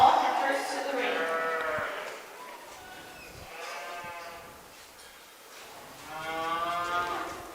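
Heifers moo repeatedly at a junior livestock stock show, three long drawn-out calls rising and falling over about seven seconds, fairly close and clear with faint arena background noise.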